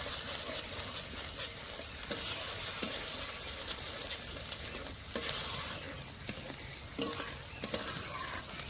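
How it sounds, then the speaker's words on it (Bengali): Stirring and sizzling of coriander paste frying with whisked sour yogurt in a pan for a rohu fish curry, a steady close frying hiss with scraping spatula strokes throughout. "টক দই দিয়ে আবারও কিছুক্ষণ কষে নেব।"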